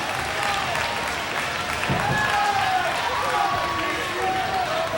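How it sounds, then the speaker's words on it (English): Scattered, polite golf claps from a wrestling audience at a BCW 20th anniversary match, steady and crowd-wide beneath continuous commentary voices. "Listen to the golf claps of the audience."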